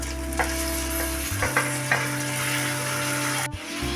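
Finely chopped tomatoes go into a pan of frying onions and ginger-garlic paste, with an even close-up sizzle, several sharp stirring knocks and scrapes, and the frying noise dropping noticeably partway through.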